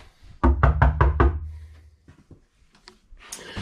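Five quick knocks rap on a solid core door in a tiny house, loud and close and evenly spaced, followed by a few softer taps and some faint handling noise.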